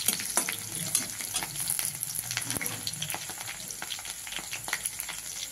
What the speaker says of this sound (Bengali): এবার সবজিগুলো সব দিয়ে দিচ্ছি। সবজিগুলো কষা হোক ভালো করে।